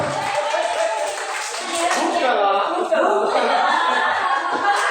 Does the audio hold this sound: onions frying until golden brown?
no